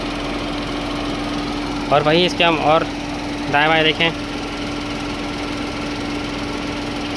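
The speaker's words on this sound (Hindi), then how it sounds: "मतलब अच्छी खासी वाइब्रेशन है अभी यहाँ पे इसके इंजन पे" A 2024 Tata Nexon engine idles with a steady low hum and vibration throughout, while someone speaks briefly in two short bursts over it.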